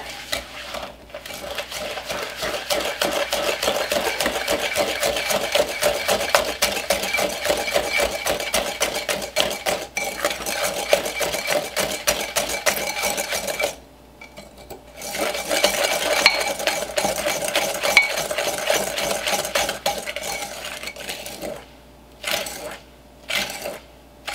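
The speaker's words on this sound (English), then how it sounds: "I'm going to mix these together." Cake ingredients for an old-fashioned oatmeal cake being mixed together in a bowl, a steady rapid scraping and stirring that runs continuously, pauses briefly, then resumes in short bursts, close and clear.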